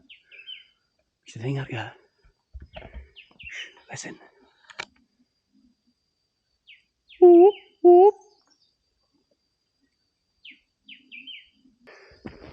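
Two loud, short calls from a monkey on Mount Raung in Java ring out back to back, close together, with people talking quietly before and after on the mountain.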